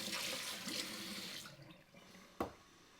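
Cold water pours into a bowl of oats and frozen berries, a close, full splashing rush that tapers off after about a second and a half, followed by a single sharp knock.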